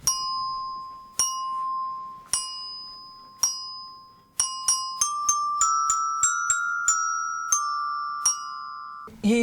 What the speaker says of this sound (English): You used chime bars, didn't you, to play the tune to the children